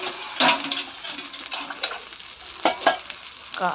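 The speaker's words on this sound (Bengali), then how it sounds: "দেখো পেঁয়াজটা ভাজা হচ্ছে" Onions fry in a pan over a strongly burning village fire, a close, steady sizzling hiss with bursts of louder crackle and spatter.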